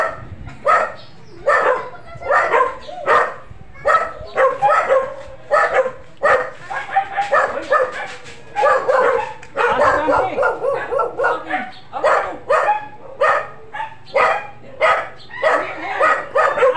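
Repeated dog barks and yips in quick bursts throughout, fairly close, with some whimpering and a voice now and then underneath.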